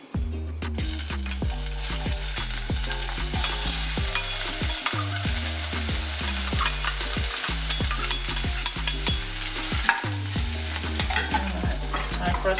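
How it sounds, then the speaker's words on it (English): Onions sizzle in about a tablespoon of oil in a pan, a loud continuous frying hiss with regular stirring scrapes throughout and no talking. "I'll be adding about 1 tablespoon of oil. And then I'll add the onions."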